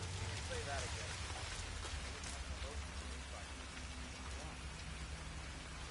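Rain falls steadily outdoors, a faint continuous patter and hiss with a low background rumble, quiet and unbroken for several seconds.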